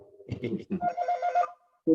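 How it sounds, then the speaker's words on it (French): A mobile phone rings during a French-language online religious study session, giving a short tonal ringtone burst that stops and then briefly sounds again, right after a man's speech. "Shalom, mon téléphone qui sonne"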